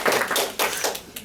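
Audience members at a Toastmasters meeting clap in short bursts, a few hands tapping unevenly and fairly close, rising and fading over about a second without speech.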